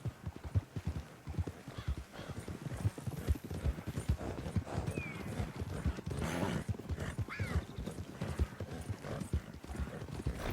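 Hooves clip-clopping in a steady galloping rhythm from a horse in Red Dead Redemption II, with a neigh and game sound effects mixed in over the constant pounding gait.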